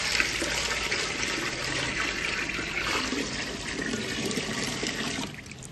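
Water poured steadily into a cooking pot, a continuous rushing, splashing flow that holds at an even level and then drops off near the end.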